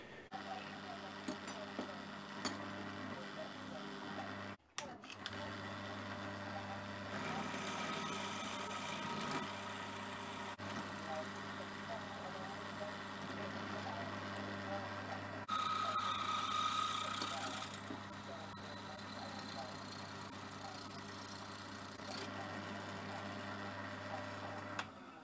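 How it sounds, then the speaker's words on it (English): A shaping machine faces the ends of a small lathe DC motor's mounting plate, a steady mechanical drone with repeated ticking strokes running continuously at close range, with a brief high tone midway and no talk. "Facing up the ends of the motor mounting plate, this could have been done by hand. I could have hacksawed it and filed it, but it was nice to use the shaping machine"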